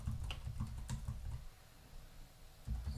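Bursts of quick, soft keystrokes tap on a computer keyboard nearby while code is written, pausing for about a second in the middle before a few more clicks resume.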